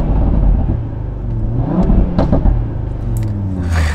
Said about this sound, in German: Und das hört sich halt bei diesen 5-Zylinder-Motoren richtig satt und geil an